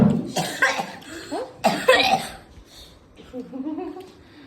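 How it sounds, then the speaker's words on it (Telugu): Several people cough in bursts after eating a very spicy chip, harsh and close, interspersed with brief vocal sounds and a chuckle-like noise. "అందరికి దగ్గులు స్టార్ట్ అయ్యాయి."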